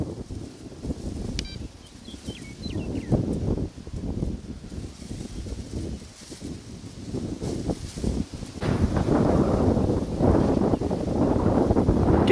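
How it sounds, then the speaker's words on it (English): Wind blowing across open ice outdoors, a steady rushing and buffeting against the microphone that strengthens toward the end, with no talk. "Getting a little windier out here"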